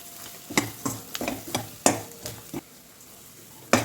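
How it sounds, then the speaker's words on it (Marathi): Peanut paste frying on a low flame, with a soft background sizzle broken by repeated sharp spatula scrapes and knocks against the pan at an uneven pace. "शेंगदाणे टाकल्यापासून दोन मिनिट आपण कमी गॅस करून याला मस्त फ्राय करून घ्यायचे"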